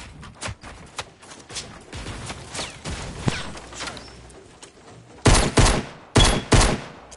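Gunfire in the video game Fortnite, with scattered single shots early on, then loud clustered bursts of rapid fire near the end, irregular and sharp with no talk.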